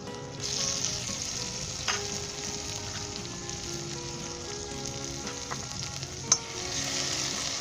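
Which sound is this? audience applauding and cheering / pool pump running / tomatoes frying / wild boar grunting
tomatoes frying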